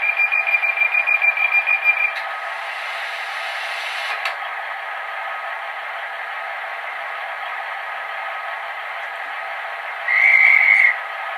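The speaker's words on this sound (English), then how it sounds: "There's the guard going to do his buzzer." A short, steady electronic buzz from a model train guard's buzzer sounds near the end, after a long stretch of quiet hum and an earlier pulsing tone.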